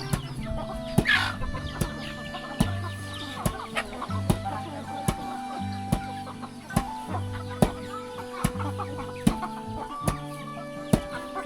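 Chickens cluck repeatedly around a rural Lao village, with a rooster-like call early on and sharp intermittent clucks over a steady, dense background of nearby fowl.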